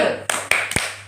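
A group does a rhythmic 'spirit clap' in an Indonesian training session: three sharp, loud claps in a steady beat, close by, with a faint hum underneath.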